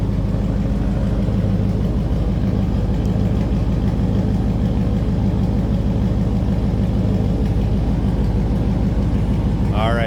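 A 1998 GMC Sierra 1500 pickup truck engine running steadily, a loud continuous low rumble and idle throb heard close up from start to finish.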